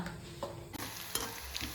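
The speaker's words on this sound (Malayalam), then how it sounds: "അതിലേക്ക് നല്ലെണ്ണ ചൂടാവുമ്പോൾ കുറച്ച് ഉലുവ പിന്നെ കുറച്ച് കടുക് ഇട്ടിട്ട് പൊട്ടിച്ചു കൊടുക്കാം കേട്ടോ." Mustard and fenugreek seeds splutter in hot sesame oil for a bilimbi pickle, giving brief close crackles and pops with a light stirring scrape, no voices.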